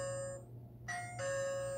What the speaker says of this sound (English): And it has eventually a ring bell